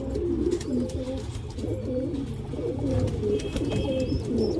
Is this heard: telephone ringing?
no